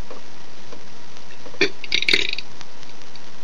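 A single burp rises briefly around the middle, fairly short and throaty against a quiet background.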